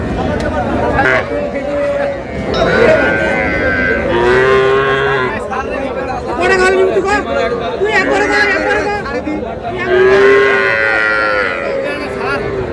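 Cattle, including bull calves and a Sahiwal, moo now and then over a steady hubbub of people talking nearby at a busy livestock market.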